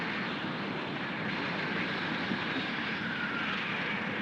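Two propeller airplanes passing overhead, a steady droning engine roar held at an even level throughout, with no voices.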